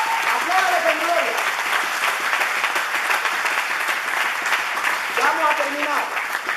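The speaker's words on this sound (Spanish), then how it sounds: "Aplauda a Dios con gloria. Apláudale con gloria." Congregation applauding during a Spanish-language church service, steady dense clapping throughout with voices rising over it at times.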